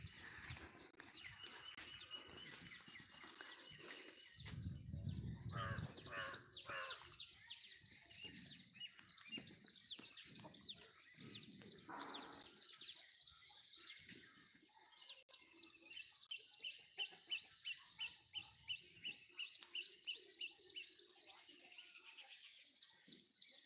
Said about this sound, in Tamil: காக்கா கத்திக்கிட்டு போகுது, மயில் கத்துது, குருவிங்கெல்லாம் கத்துது.